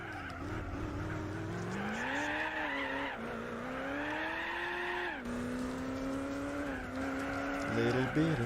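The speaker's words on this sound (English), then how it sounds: "Little bit of wheel spin." A racing truck in Gran Turismo 4 spins its wheels with a steady tire squeal over a continuous, rising and falling engine drone during an endurance race at Laguna Seca, loud and close throughout.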